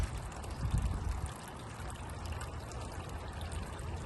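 Water and sand wash through a Mikron gold prospecting machine, a soft steady pouring trickle with a brief gurgling surge near the start, quiet and close, with no talking.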